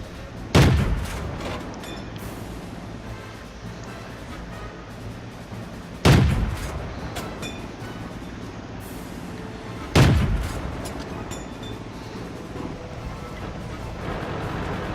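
An FCM 36 Pak 40 tank gun in a video game on the Prokhorovka map fires three loud, booming shots, each followed by a short decaying rumble and spaced a few seconds apart, over steady engine and battle ambience.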